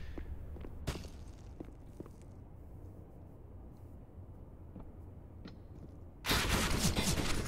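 Gunfire in a professional Counter-Strike match: scattered sharp shots and footsteps over a low game rumble, then a sudden loud, sustained burst of automatic fire near the end.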